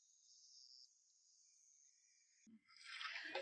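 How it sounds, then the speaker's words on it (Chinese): Insects chirping at night, a faint steady high trill that fades and shifts, followed by a brief rustle and louder hiss near the end. "听，夜晚的虫鸣，"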